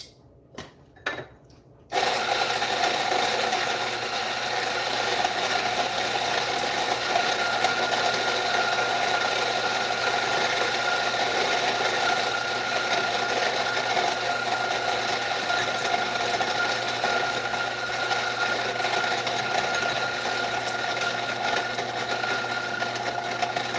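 Electric coffee grinder milling Colombian beans, a few sharp clicks then a loud, steady whirring grind that runs continuously and close for the rest of the clip without talk.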